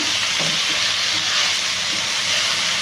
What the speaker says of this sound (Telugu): ఇప్పుడు బీన్స్ వేసేసుకుంటాను